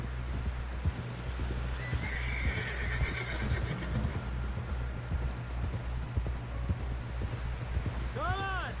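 Horse neighing and whinnying with clip-clopping hooves in the Red Dead Redemption video game, set over a steady low rumble of game ambience, with a prominent whinny near the end.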